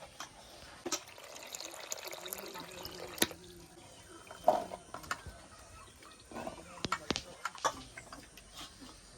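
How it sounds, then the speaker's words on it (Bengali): Potatoes are washed by hand in water, with irregular splashes, drips and knocks up close, some louder bursts between quieter stretches, and faint voices in the background. "এবার আলুগুলোকে আমি ধুয়ে নেবো"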